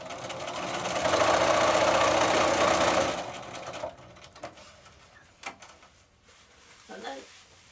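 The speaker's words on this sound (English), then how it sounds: "Line up the edge of the foot with the fabric" Sewing machine stitching fabric for a cushion frill, a fast continuous whirring run lasting about three seconds before it stops, then a few soft knocks and handling sounds, with a voice talking nearby.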